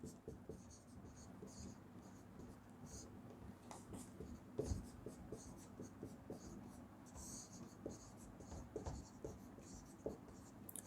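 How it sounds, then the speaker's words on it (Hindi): A teacher writes on a board during a Sanskrit lesson, producing a faint, continuous scratching of strokes with small taps, steady throughout and heard alone at low volume. "घ का हम लोग लिखेंगे"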